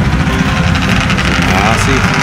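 Antique 1959 cast-iron lawn tractor engine at a fair, chugging steadily right after a pull start, a close, loud, rough idle with rapid vibrating pulses and people talking over it.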